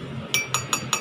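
A metal tablespoon clinks against a glass while coffee is being made, four sharp bright taps evenly spaced about a fifth of a second apart, close and alone.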